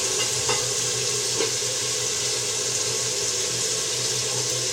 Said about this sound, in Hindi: मैंने प्याज डाल दी इसमें, ये प्याज डल गई।